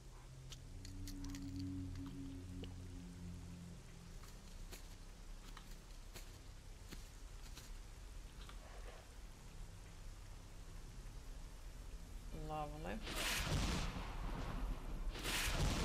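Steady, soft rain hisses in the Stalker: Call of Pripyat game soundscape, joined by scattered clicks and then loud bursts that sound like gunfire near the end.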